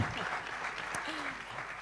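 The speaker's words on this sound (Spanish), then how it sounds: "un aplauso, se ha ganado" A crowd at a talk by a crime novelist breaks into brief, steady applause, a continuous wash of many hands with a voice faintly audible beneath.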